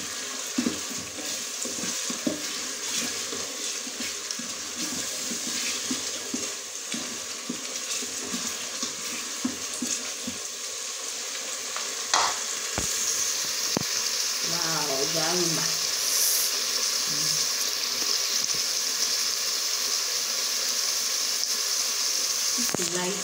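Spinach stew frying in a pot at home, a steady soft sizzle with scraping stir strokes throughout, a faint running tap partway through, and quiet speech now and then.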